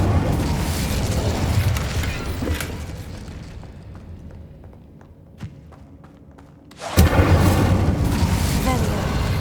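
Incendio fire spell in the video game Hogwarts Legacy: a loud, roaring burst of flame that swells over a few seconds, drops away to a quieter lull, then erupts again into a dense, rumbling blaze.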